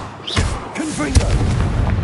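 A Confringo fire spell bursts in Hogwarts Legacy with a sharp booming blast partway through, set against ongoing game ambience and a speaking voice.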